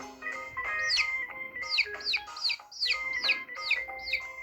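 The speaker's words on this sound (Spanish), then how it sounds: "Y el pollito hace pío," A chick peeps in a lively run of bright, high chirps, about eight sharp calls in quick succession, close and clear with no one talking.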